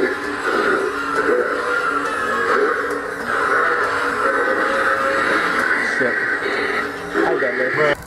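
A Tekky Toys Death Row animatronic Halloween prop activates, giving off a loud, continuous stretch of processed, radio-like voice and sound effects, close to the listener.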